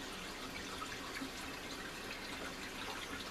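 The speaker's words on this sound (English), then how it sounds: "before I start running the hot water on it." Hot tap water runs over cooked hamburger in a strainer, a steady close hiss and patter of water without pause or voices.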